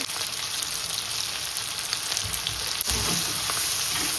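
Dried prawns frying in a pan with a little salt for a spicy Tamil thokku, a steady, close, dense sizzle throughout with a brief stirring scrape near the end, no talking.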